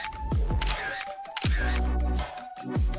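Camera shutter clicks from a phone snapping selfies, three sharp clicks spaced about a second apart, loud and close over a steady electronic tone and background chatter-free hum.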